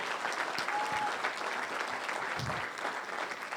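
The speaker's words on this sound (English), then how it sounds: "give them a big round of applause because they deserve it" A comedy fundraiser crowd gives a dense, even wash of applause that holds steady for several seconds at a moderate distance, with a faint voice or two blended into the clapping.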